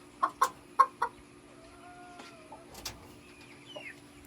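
Laying hens in a backyard coop give a run of four sharp clucks close by, then quieter scattered clucks and calls, with no talking.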